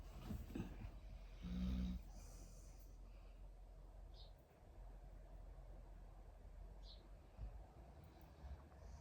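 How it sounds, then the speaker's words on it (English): Loud, rasping snores rumble close by, with a heavy burst near the start and then a steady, noisy breathing drone. "They're both snoring really loud today, aren't they?"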